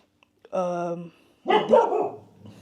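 Close by, a dog lets out a drawn-out, tonal yelp, then a rougher burst of barking, loud against a quiet background.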